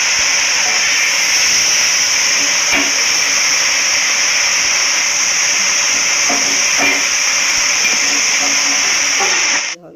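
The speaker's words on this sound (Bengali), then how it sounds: "তো এখানে সুন্দর করে সবজিগুলো সব ভেজে নিচ্ছি" Vegetables and sweetcorn sizzle in a pan with a light salting, giving a loud, steady hiss that runs unbroken for about ten seconds, with faint stirring taps, before cutting off abruptly at the end.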